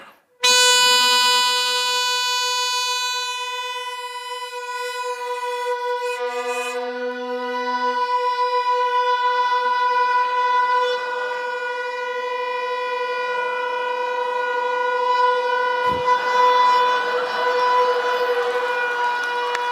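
Loud sustained blasts from toy trumpets blown together in a contest to see who can blow longest and loudest, several steady tones overlapping and holding for many seconds with only brief dips.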